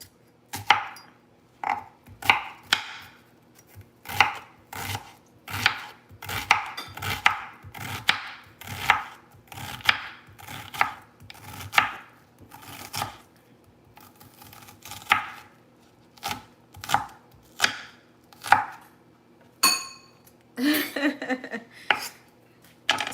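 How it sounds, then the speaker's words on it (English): Onions are chopped with a knife on a kitchen board in a steady, rapid run of crisp close knocks, ending with a brief clatter of pans or utensils, no voices heard. "So I'm just chopping my onions."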